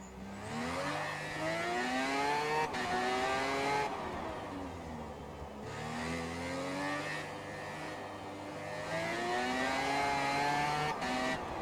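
A rotary-engine race car revs hard and drives, its high, buzzing note rising and falling through repeated gear-change sweeps, loud and steady without pause.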